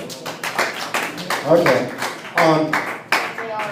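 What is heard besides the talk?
audience round of applause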